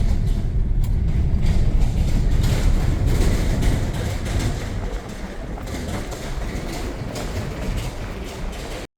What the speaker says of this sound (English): Ooh, you hear the trailer rattling.